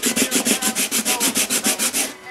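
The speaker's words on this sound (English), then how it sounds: "I'm going to sand that down nice and level, just where those knobs were." Coarse 80-grit sandpaper rubs back and forth over wood, leveling spots where small knobs were removed; about a dozen quick, even, rhythmic strokes close up, each a rasping whoosh, with no voices.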